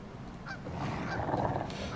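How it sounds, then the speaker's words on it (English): A goose in a video game gives a few nasal honks over a steady, muffled game background, fairly faint and without speech. "are not alarmed by my honking"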